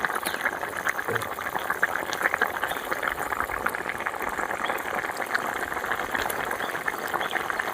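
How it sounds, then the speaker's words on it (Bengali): Fish curry with taro and potato bubbling in a pot, a steady close simmering and gurgling of liquid at even loudness, no talking. "মাছটা দিয়ে আমরা দু মিনিট মতো ফুটিয়ে নেব"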